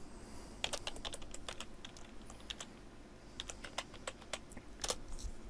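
Quick bursts of clicks from a computer keyboard as a folder name is typed, close and fairly quiet, with irregular clusters of keystrokes and short pauses between them.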